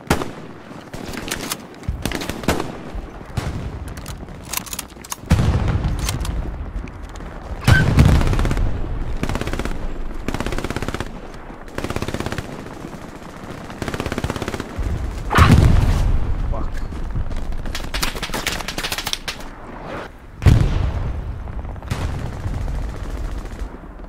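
Gunfire rattles through a World War 2 battle in Hell Let Loose: loud bursts of rifle and machine-gun fire with heavy booms, coming in repeated waves over roughly twenty seconds, with someone talking between the shots.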